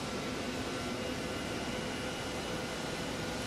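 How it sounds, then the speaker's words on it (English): Boeing 727 jet engines in Microsoft Flight Simulator 2024, a steady broadband roar and whine running without change, moderately loud and alone. "The engine sounds are actually very nice."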